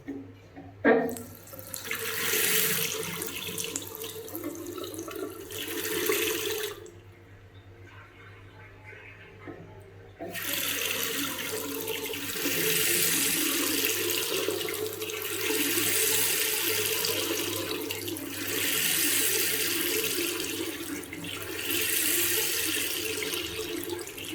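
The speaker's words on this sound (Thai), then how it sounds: "เดี๋ยวผมทำการเปิดน้ำดูนะครับ" Tap water running into a bathroom sink drain after a Farcent flake-type drain unclogging powder treatment, a steady broadband rush that stops briefly midway, then resumes strongly and continues without talk.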